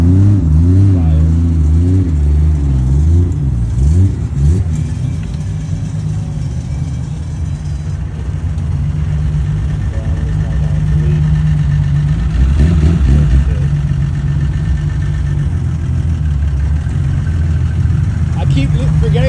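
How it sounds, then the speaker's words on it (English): Cars rolling into a JDM car meet in Miami, their engines rumbling and revving steadily close by with a low, continuous drone, while people talk over the engine noise. "So as you can really tell, we got cars rolling in."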